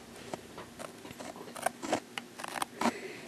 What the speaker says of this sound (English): I'm simply going to take my paper snips and I'm going to trim right along that embossed edge of my paper there.